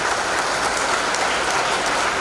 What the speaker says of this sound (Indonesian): Tepuk tangan untuk keluarga besar Bapenda.